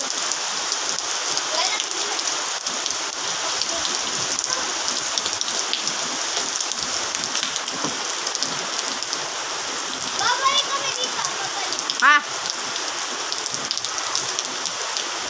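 Heavy rain pours steadily during a thunderstorm, a dense continuous hiss of drops striking surfaces throughout, with children's voices and brief shouts heard faintly in the background.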